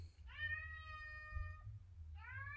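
A pet cat meows twice indoors, a clear drawn-out call followed by a shorter one, close and fairly quiet over a low background hum.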